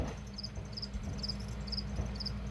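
Crickets chirp in a breeding container, short high trills repeating at a steady rhythm over a constant low hum, close and moderately loud with no voices.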